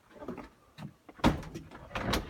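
A door on a farm opens as someone walks out, a short knock and scrape followed by a louder thump and sliding rattle, heard close with a few quieter footfalls.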